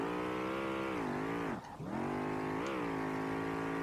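Audi S4 engine in the SLRR racing game, a steady loud drone with rich harmonics that dips sharply for a moment as revs drop and then climbs back up, like a quick clutch kick mid-slide.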